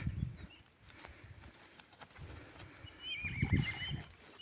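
A stallion moves about outdoors, with soft hoof thuds and shuffling and a faint snort or whinny toward the end, all fairly distant and low in level.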